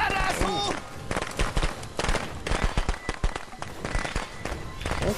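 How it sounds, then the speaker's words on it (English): A string of firecrackers in the Friday the 13th video game, a rapid, irregular crackle of sharp pops bursting in clusters, with voices talking over and between the bangs. "That's twice I've seen a string of firecrackers like that."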